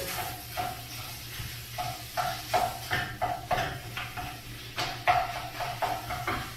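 Ground beef sizzling in a hot pan while a spatula breaks it apart, with repeated scraping and tapping strokes against the pan in an uneven rhythm over a constant frying hiss, close up with no talking.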